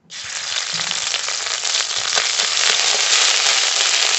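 Ginger paste hits hot white oil in a wok and bursts into a loud, steady sizzle that rises at once and holds with fine crackling throughout, close and with no voices over it.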